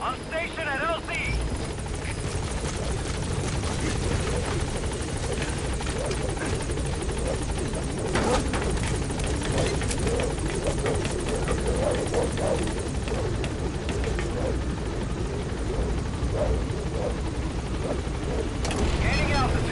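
Pequod, the transport helicopter in Metal Gear Solid V: The Phantom Pain, arrives at a landing zone with a loud, continuous rotor drone and chopping beat that fills the whole stretch while radio voices talk over it.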